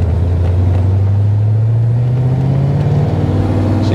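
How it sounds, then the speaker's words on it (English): Corvettes roll onto an old airfield runway near Atlantic City for a Toys for Tots fun run, their engines a loud, close, continuous drone that rises slowly in pitch as they accelerate, with no talking. "So you can see some of the cars coming in over there."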